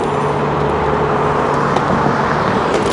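Dense road traffic noise surrounds a rider on an Emove Cruiser electric scooter in city traffic, a steady loud rumble and hum of nearby cars with a few faint clicks and bumps.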